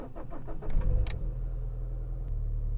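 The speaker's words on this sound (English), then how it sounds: "The car is running slightly lumpy." A Fiat Punto HGT with a check engine light cranks briefly and catches, then settles into a close, uneven idle with a slightly lumpy, pulsing beat.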